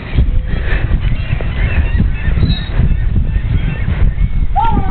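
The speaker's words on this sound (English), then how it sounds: "Beware of dive-bombing birds." Dive-bombing birds calling loudly and close by, a continuous stream of harsh, goose-like honks overlapping one another with no pause.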